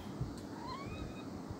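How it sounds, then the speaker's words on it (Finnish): A cat meows as it comes indoors at night, giving a thin, rising and falling cry over steady background noise, moderately close. "Kissa tuli sisälle."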